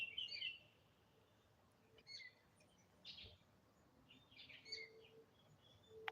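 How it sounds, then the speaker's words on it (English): Several birds sing and chirp in short bursts outdoors, calls coming and going at moderate distance over a low constant background rumble, with a brief sharper note near the end. "Different birds making sounds."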